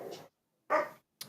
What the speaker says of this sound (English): Apologies if you hear the dog in the background.